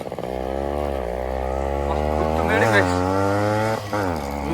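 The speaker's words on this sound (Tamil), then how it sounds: "ஆனா இந்த நைட்ல இந்த வண்டி சவுண்டே வேற லெவலுக்கு" A vehicle engine labours up a slope on a forest road at night, a loud, close, buzzy drone that rises and falls in pitch with throttle changes, with brief voices over it.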